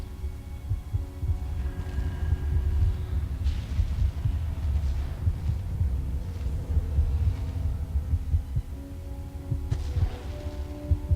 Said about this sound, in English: Hear his heartbeat.